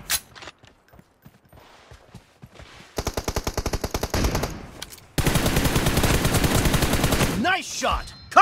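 Machine gun fire in the PUBG video game: scattered single shots give way to rapid, loud sustained automatic bursts, with faint voices underneath.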